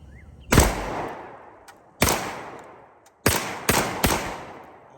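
Five loud, sharp 12-gauge shotgun blasts from a G Force GF25 mag-fed AR-style shotgun ring out with uneven spacing, the last three in quick succession, each decaying into a brief echo with no talking.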